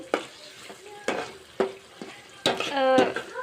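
Tomato dropped into a hot frying pan, sizzling sharply as a spoon scrapes and stirs in several quick strokes, with a louder burst of frying near the end.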